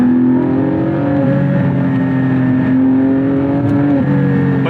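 Naturally aspirated engine of a Porsche Boxster Spyder revving hard, a loud close-up mechanical howl with steady harmonics that rise and dip slightly as the revs are held high, no talking.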